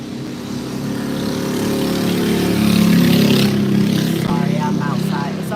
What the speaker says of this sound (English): It's always the smallest motorcycles that make the biggest noise.